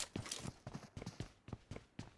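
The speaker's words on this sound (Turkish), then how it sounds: "Ayak sesi var bir saniye." Footsteps in PUBG Mobile, a quick run of about ten evenly spaced thuds on hard ground, fairly close and loud, with no talk.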